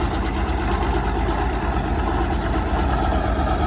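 An antique Caterpillar diesel dozer engine idles steadily nearby, a continuous low rumbling drone with no break and no speech.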